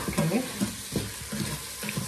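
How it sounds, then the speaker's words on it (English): Meat browns in a hot pot during Sunday lunch cooking, giving a steady close sizzle with faint stirring and scraping, and no talk over it. "You can hear the pot is sizzling, right? So I want to get a little bit of browning on the meat."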